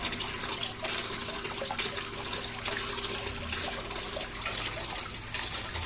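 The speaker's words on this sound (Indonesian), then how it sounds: "silahkan buka keran outletnya untuk drainnya, pengurasnya, buka" Water drains steadily out of a cheap koi pond filter's first chamber through an opened outlet valve, a continuous loud rushing gush with no break and no voices.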